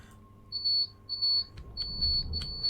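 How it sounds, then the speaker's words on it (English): Guard buzzer in a Class 87 locomotive cab in Train Simulator Classic sounds as a series of short, sharp electronic beeps in uneven bursts, clear over a low engine rumble that grows louder toward the end. "Guard buzzer has just gone off, and that is giving us the go ahead."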